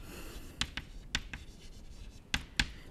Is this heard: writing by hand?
yes